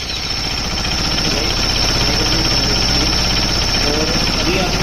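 A Bajaj Pulsar RS200 motorcycle engine, which has a fuel pump and wiring fault, runs close and loud at idle with a rapid steady thumping throb and a mechanical rattle.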